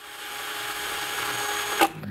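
A Premier HL 818 cordless brushless impact drill runs at speed setting 2 in drilling mode: a steady, close motor whine that holds level, then gives a brief sharp clicking rattle near the end.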